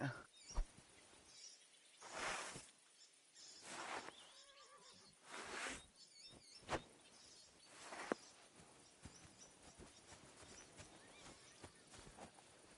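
In the medieval video game Kingdom Come: Deliverance 2, a horse neighs and snorts in a few loud bursts over faint hoof clops and distant birdsong.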